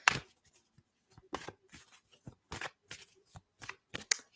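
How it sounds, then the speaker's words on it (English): Oracle cards are shuffled and drawn in a quiet room, a series of short papery riffles and flicks arriving in irregular bursts with small pauses between. "So we pulled Desired Reflection, Evangeline"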